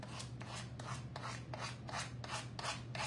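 Sandpaper rubs excess paper off a small patriotic craft house in steady back-and-forth strokes, about eight rhythmic rasping passes, soft and close with no voices.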